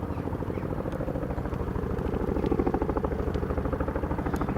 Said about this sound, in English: the Chinook's just passed underneath him